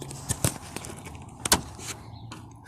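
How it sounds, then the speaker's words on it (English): Sharp plastic clicks and light knocks come from hoses and connectors being worked on a 2006 Mitsubishi Endeavor radiator, several scattered close snaps over quiet background without speech. "once you hear that clicking sound, then you know it came off"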